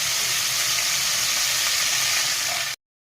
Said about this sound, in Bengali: এগুলো ভাজার জন্য দিয়ে দিলাম।